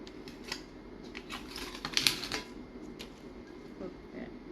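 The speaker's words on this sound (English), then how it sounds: "I'm trying to get this daggone tape off of here." Tape is peeled off a 20 oz skinny sublimation tumbler in short crackly bursts, with one sharper rip near the middle, all fairly close and moderately quiet.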